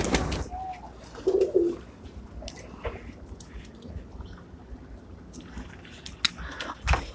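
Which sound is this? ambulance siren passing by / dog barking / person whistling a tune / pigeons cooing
pigeons cooing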